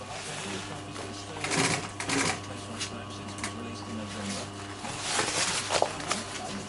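A sewing machine stitches sofa upholstery fabric tight along piping, a close mechanical whir with rustling and shuffling of cloth, steady throughout with brief louder bursts.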